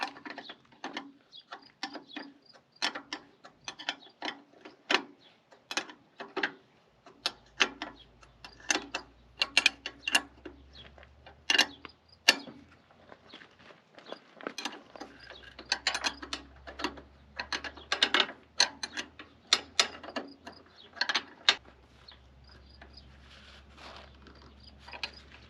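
Hand tools fit and tighten a diesel starter and upper mount rubbers on a Cub Cadet, with rapid ratchet clicks and metallic taps in steady bursts, close by, over a low hum.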